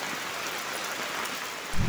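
Heavy monsoon rain pours steadily in the Konkan countryside near rice paddies and a roadside, a dense, even hiss with no pauses, ending in a brief low rumble.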